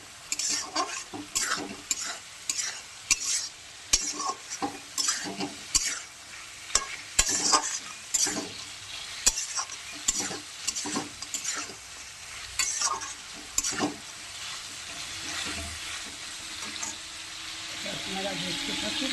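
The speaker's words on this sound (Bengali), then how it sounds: "বন্ধুরা মাছগুলো এর মধ্যে দিয়ে কষাবো।" Fish sizzles in a pan with spices while a spoon stirs and scrapes repeatedly, producing irregular clattering strokes over a soft frying hiss that settles toward a steadier sizzle near the end.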